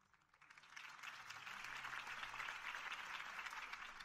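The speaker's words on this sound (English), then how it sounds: "could have heard that applause" A video game crowd in Batman: The Telltale Series breaks into sustained applause, rising quickly from quiet into a dense, steady wash of clapping that holds to the end.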